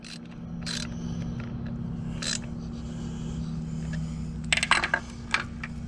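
Metal parts clink while an idler pulley is fitted onto a car engine: a few sparse, sharp metallic taps early on, then a quick cluster of close clinks near the end over a low steady hum.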